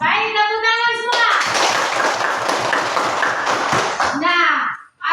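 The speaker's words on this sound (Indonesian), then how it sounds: "tepuk tangan semua" A school class claps hands together in a dense, steady burst lasting several seconds, framed by voices speaking before and after.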